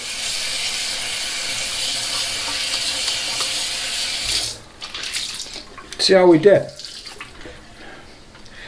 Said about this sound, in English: Let's wash it down here with some cool water.